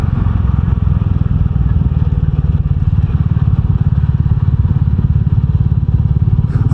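A Royal Enfield Meteor 350 single-cylinder motorcycle is ridden on a cold, foggy, wet winter morning, its steady thumping exhaust loud and continuous under wind rush for the whole stretch.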